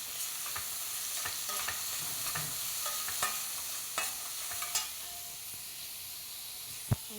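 Onion stir-frying in a pan for Chinese noodles, a continuous sizzle broken by repeated scraping strokes of a spatula and one sharp knock near the end, with no speech.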